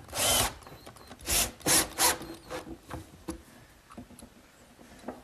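Screws are driven into table clips on a wooden Irish-style table, heard as a few short, close whirring bursts of a driver against wood, then fading to quieter scrapes and clicks.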